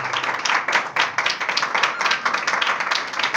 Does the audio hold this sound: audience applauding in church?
yes